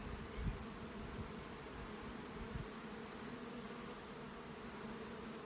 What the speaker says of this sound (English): Got some bees on here